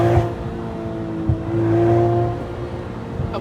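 A BMW Z4 with a loud aftermarket exhaust revs nearby, a deep droning engine tone that swells and holds before easing, with brief thumps at the start and end.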